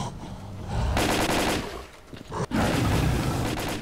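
Automatic gunfire in the video game Stalker Call of Pripyat roars loud and close in long, dense bursts, broken by a brief lull and a sharp gap before the shooting resumes.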